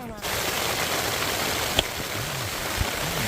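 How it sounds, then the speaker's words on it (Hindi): Light rain falls at a mountain campsite on a trek, a steady close hiss of drops that runs throughout, with a few brief thumps and low murmurs under it. "यहाँ पे अंधेरा होने वाला है और हल्की हल्की बारिश भी चलने लगी है।"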